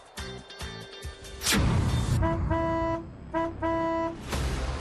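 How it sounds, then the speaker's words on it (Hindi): Several car horn honks, short beeps then longer blasts, over road and engine noise. "इसलिए हॉर्न बजाना जरूरी है।"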